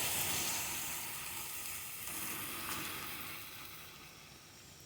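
Ground onion and tomato paste sizzles and hisses in a hot pan while sautéing, a steady bright frying sizzle that slowly softens, with no talking over it.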